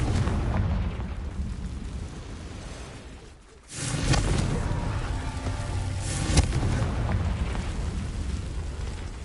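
A Confringo fire spell in Hogwarts Legacy bursts with a loud whooshing blast after a short lull, followed by a rumbling, crackling tail and a second sharp impact.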